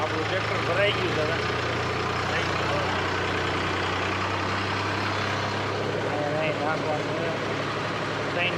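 A loaded tractor idles by a riverbed with a steady, low engine rumble throughout, while voices talk over it.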